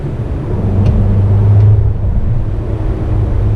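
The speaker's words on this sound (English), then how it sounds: "I downshifted down to the 3rd gear, and you can actually hear the exhaust a little bit." A steady low engine rumble from a 2017 Audi Q3 exhaust after downshifting to third gear, droning continuously at close range with a slight swell partway through.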